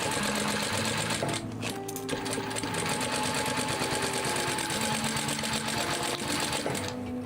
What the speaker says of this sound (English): I'll just pop my needle back down, back stitch over where we stopped, and carry on as if nothing happened